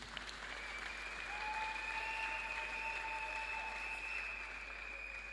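A wedding congregation applauds steadily at a pastoral couple's church celebration, a dense, even wash of clapping that holds for several seconds, with a few thin whistle-like tones riding over it.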